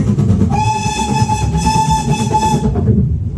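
Ooty toy train in motion, a steady loud rumble of running carriages topped by a sustained tonal whistle or horn that holds for about two seconds before fading, with no voices.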